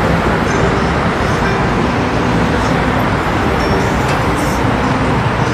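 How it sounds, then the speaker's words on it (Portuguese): Dense car traffic rolls across the Santa Ifigênia viaduct in central São Paulo, a loud, continuous roar of engines and tyres from vehicles approaching from both sides, steady throughout with no talk. "Aqui é os carros vindo do lado, do lado direito e lado esquerdo."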